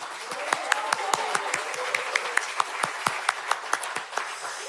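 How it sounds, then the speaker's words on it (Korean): Steady applause from a crowd at a political party nomination ceremony, a dense patter of clapping hands with no clear cheering, sustained at moderate volume throughout. "여러분들의 뜨거운 박수와 함성으로 시작하겠습니다"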